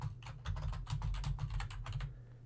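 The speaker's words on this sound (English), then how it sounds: "I'm just going to type in something." Rapid typing on a computer keyboard while entering text in video editing software, a dense run of close, crisp key clicks with no talk.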